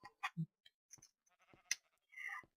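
Sheep bleating in the video game Minecraft: a short, low, nasal bleat stands out amid scattered game clicks and small blips, followed by a brighter burst of sound near the end.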